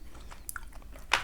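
A salty piece of Krym Yellow, a Crimean tomato variety, bitten and chewed up close, faint soft crunches ending in one sharper bite.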